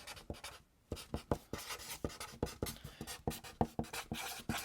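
A pen or pencil writes words on paper, producing a close, rhythmic series of short scratching strokes with a brief pause near the start and no talking.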